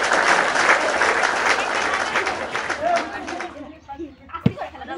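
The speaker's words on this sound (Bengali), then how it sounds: "সুন্দর একটা জোরে করতালি করতালি" A group bursts into loud, dense applause during a bottle flip fuchka-eating challenge; the clapping fills the first few seconds, then fades to scattered sounds and chatter.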